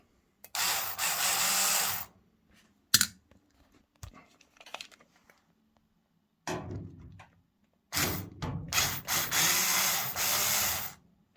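A power screwdriver whirs in several bursts of a second or two each, close and loud, as screws come out of the back panel of a tumble dryer, with small clicks and handling noises between the bursts.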